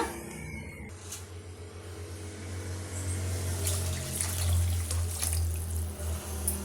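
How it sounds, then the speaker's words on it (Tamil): Water pours steadily into a pot of tomato rasam holding dissolved tomato and tamarind, a continuous splashing stream that builds and stays fairly loud, with no talking. "தேவையான அளவுக்கு தண்ணி சேர்த்துக்கலாங்க."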